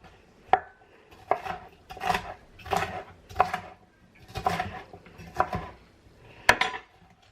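A leftover half bell pepper is chopped on a cutting board in a run of seven or eight distinct knife strokes, close and fairly clear, with quiet gaps between them and no voices.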